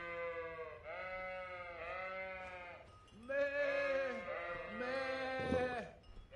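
Sheep in Kingdom Come: Deliverance bleat repeatedly, several wavering calls in quick succession, loud and close, with faint game ambience beneath.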